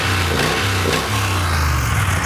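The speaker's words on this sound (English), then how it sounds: "Now, we're talking about the engine, 1700cc with that big bore kit added." A 1700cc parallel-twin motorcycle engine fitted with a big bore kit revs loudly and close, deep throbbing pulses rising and falling in a couple of throttle blips.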